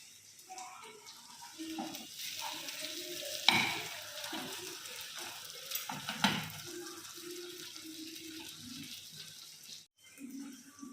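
Fish pan-frying on a tawa with onions: a soft, uneven sizzle with occasional stirring and scraping scrapes, fairly quiet and close, with a few sharper clinks along the way.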